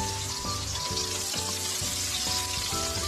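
Onions go into a pan after garlic for a goat kaldereta and sauté with a constant, fairly quiet crackling sizzle heard close up, with no one talking.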